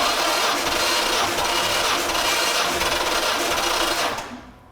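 A 1957 Thunderbird engine cranks over on its starter during a compression test, a steady, loud, fast rhythmic churning that runs for several seconds before winding down at the end.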